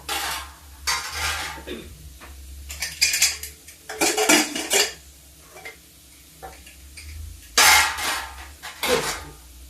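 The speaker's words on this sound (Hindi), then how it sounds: "ये देखिए, ये मेरी दलिया, इसको मैं इसे मिक्स करती हूँ" A spoon scrapes and clinks against a pan while porridge is mixed into cooked vegetables, making bursts of metallic scraping and clatter with quiet pauses between them, close and fairly loud.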